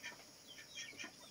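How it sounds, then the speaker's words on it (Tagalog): Several chickens cluck in short repeated bursts around a farm hut, fairly faint and a little distant, with no talking over them. "Marami po mga manok dito"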